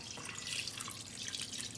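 Water trickling and splashing as it is poured into a pressure cooker while making tamales, a steady close liquid pour lasting under two seconds with no talk.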